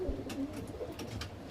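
Ablak pigeons coo at close range in a loft, a pair of low, soft, throaty calls with quieter rustling and faint background noise around them.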